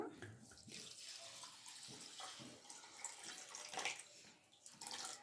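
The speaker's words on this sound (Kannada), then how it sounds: "ನೀರು ಹಾಕ್ಕೊಂಬಿಡೋಣ ಸ್ವಲ್ಪ" Water is poured from a container onto sago pearls (sabudana) in a bowl, giving a faint, uneven splashing and trickling that varies over several seconds.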